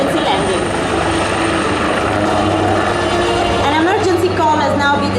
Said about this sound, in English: the helicopter has taken off to start its search and rescue mission